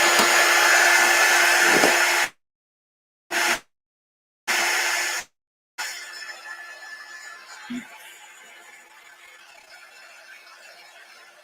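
A hair dryer blows loudly and close over fresh chalk paint, switching on and off in several short bursts before one run fades to a softer hum, with a brief chuckle near the end.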